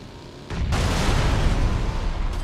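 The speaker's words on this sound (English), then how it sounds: "Somebody just exploded" A loud explosion in a video game, a sudden blast followed by a long rumbling roar that holds for about two seconds.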